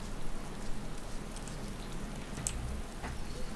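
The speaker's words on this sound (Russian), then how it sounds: "Видите, дождь пошел." Steady rain falls in the video game DayZ Origins, a soft, even hiss of drops on surfaces that continues faintly and without a break, with no voices.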